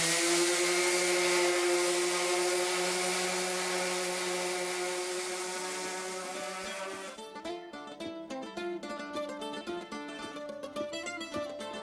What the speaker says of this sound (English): I'm going to take an orbital sander, and with some fine sandpaper on here, I think this is 120, I'm going to remove all of this rust